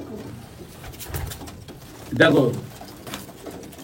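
Abluk pigeons nearby give soft coos, with one louder rolling coo standing out midway; someone speaks briefly over the birds.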